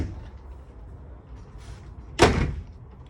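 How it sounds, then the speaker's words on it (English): A quiet room inside a 2020 Thor Miramar Class A motorhome, a soft sliding rub, then a sharp thud as a slide-out drawer is pushed shut. "There's some nice slide-out drawers there."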